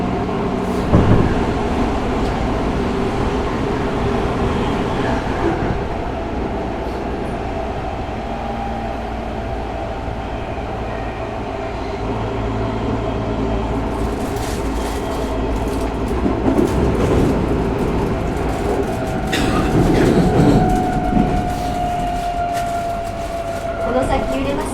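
Tokyo Metro 05 series train with Mitsubishi IGBT traction running as a local on the Tozai Line from Nishi-Funabashi toward Nakano, heard from inside the car: a steady loud rumble of wheels and motor whine, with rising inverter tones near the end.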